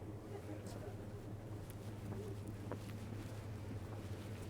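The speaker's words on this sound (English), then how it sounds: "Yeah, that does look like a Coast Guard boat." Steady low engine drone of a Coast Guard boat out on the water off Newburyport, Massachusetts, with wind rushing across the microphone throughout.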